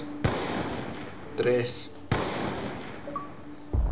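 Gunshots in Call of Duty Black Ops 2 crack out as three sharp single blasts spaced a second or two apart, each with a short ringing tail, with a voice counting between them.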